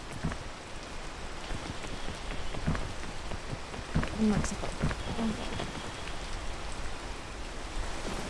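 Steady rain hisses across the whole moment in the video game Peak during a solo climbing run, with a voice briefly exclaiming over it.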